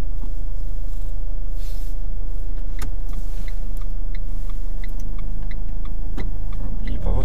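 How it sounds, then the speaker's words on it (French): Low steady engine rumble of an automatic-gearbox driving test car idling inside the cabin, continuous throughout with faint clicks and small ticks over it, quiet and close. "Je vous laisse mettre en route le moteur et on démarre dès que c'est possible."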